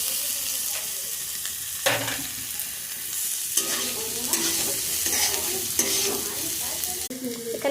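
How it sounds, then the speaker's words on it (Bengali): Fried vegetables go into a pan of lightly fried chopped garlic for pasta, producing a loud, continuous sizzle close by. Bursts of stirring and scraping recur every second or so. "এবার আমি সেই ভেজিটেবল ভাজাগুলো দিয়ে দেব।"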